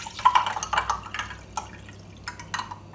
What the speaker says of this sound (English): get an ice cube in each and fill each with 300 millilitres of water